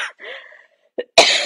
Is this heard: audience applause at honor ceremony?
no